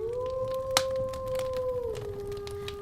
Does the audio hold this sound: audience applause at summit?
no